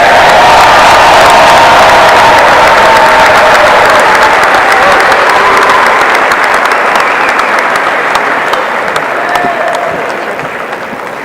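A large crowd at the 2022 high school senior graduation ceremony gives loud, sustained applause for the graduating class, dense clapping with some cheering that gradually fades toward the end.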